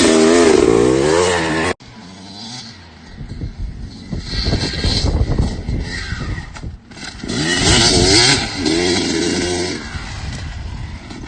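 Dirt bike motorcycle engine revving loudly through a jump with a nose-high wheelie, the pitch rising and falling in surges with a brief cut near the start as the rider works the clutch and brake.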